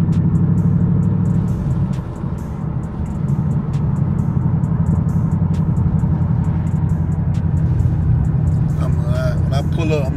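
A new Ford Mustang drives and accelerates with a steady, close engine rumble from inside the car, which rises slightly in pitch while someone talks over it.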